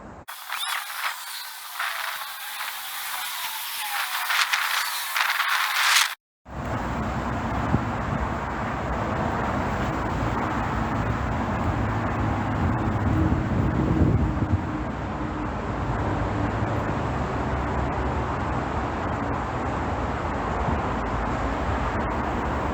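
Passing car traffic on a roadway, a steady broad roar of tyres and engines rising and falling as vehicles go by, continuous after a brief cut, with no speech.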